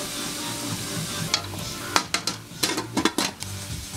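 Carrots and onions sizzling in a pan while a tofu scramble with potato cooks, a soft steady hiss broken by sharp scraping and clinking as the food is stirred with a utensil, close and with no talk.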